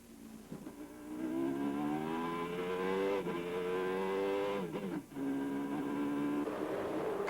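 A 1989 Formula 1 car with a faulty gearbox screams close by, its engine pitch climbing repeatedly through the revs, broken by abrupt dips at the upshifts, loud and alone.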